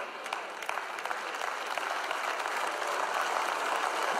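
A large audience claps in agreement during a sermon, a dense, steady wash of applause sustained from start to finish with no voices on top.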